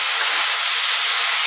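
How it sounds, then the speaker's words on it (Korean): Vegetables stir-fry for Korean jjamppong, a loud, continuous sizzling hiss that stays steady and close throughout, with no voices. "야채는 조금씩 넣어가지고 같이 그냥 볶는"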